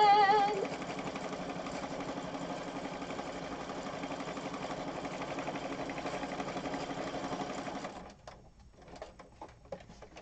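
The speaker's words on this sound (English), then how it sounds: "We're sewing." A sewing machine stitches a handmade junk journal with a steady mechanical whir that runs continuously for about eight seconds, then stops, leaving quieter handling sounds.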